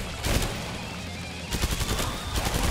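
Gunfire in the shooter Killing Floor 2: two rapid bursts of automatic shots, loud and close, separated by a brief lull filled with steady background noise.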